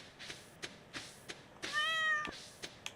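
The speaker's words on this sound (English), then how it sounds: "Pet my cat." Cat meow in the video game Stardew Valley after being petted, a single short, clear game-sound meow over soft repeated clicks and background noise.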